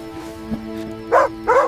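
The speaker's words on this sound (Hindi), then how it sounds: "तभी जबरा जोर जोर से भौंकने लगा।" Two short, loud dog barks close by, following a low steady hum and a faint thump.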